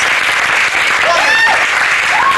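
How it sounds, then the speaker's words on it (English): Crowd applause for David Letterman at a 1988 Fielder show, a steady dense wash of clapping across the whole stretch, with brief whistles and cheers rising above it. "Let's give him another big hand"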